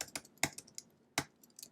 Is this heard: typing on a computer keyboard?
yes